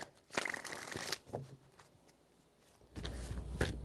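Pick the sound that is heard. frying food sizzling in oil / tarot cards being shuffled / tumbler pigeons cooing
tarot cards being shuffled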